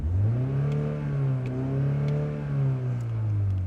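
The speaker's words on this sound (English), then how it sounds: "It has a very traditional starter noise." A 2025 Mini Cooper S Convertible engine turns over with a traditional starter noise and settles into a steady, smooth idle hum, close and continuous, with faint ticks above it.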